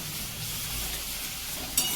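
A steady, soft sizzle of ground cauliflower stalk paste frying in a pan, with faint stirring scrapes and a brief clatter near the end.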